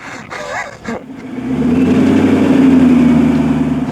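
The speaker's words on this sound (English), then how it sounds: "We're taking the Ford GT on the road." A Ford GT engine swells from a brief quieter start into a loud, steady mid-pitched drone that holds close and strong, with a short voice-like sound near the beginning.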